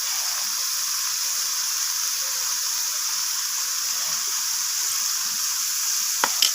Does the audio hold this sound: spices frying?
yes